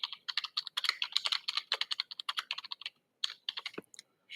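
Close computer keyboard keys clack in quick, uneven runs as an app name is typed, with a short pause near the end before a final burst of keystrokes.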